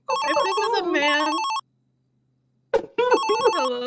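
A phone rings in GTA V, a bright repeating electronic ringtone in two bursts separated by a pause, close and clear with no talk over it.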